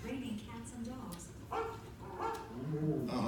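Rover, a dog on the Carousel of Progress attraction, gives a few short barks and yips over a steady background of speech and show sound.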